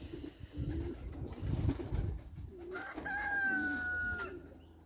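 Poultry birds kept at an allotment call close by, with low clucking and cooing sounds followed by a longer drawn-out crow-like call near the end, fairly faint in an otherwise quiet outdoor setting.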